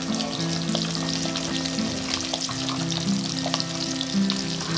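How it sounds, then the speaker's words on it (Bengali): Pabda butter catfish fry in white oil, a dense, steady sizzle and crackle that holds close and loud throughout with no talk. "এবার পাবদা মাছগুলোকে সাদা তেলে ভালো করে ভেজে নিচ্ছি।"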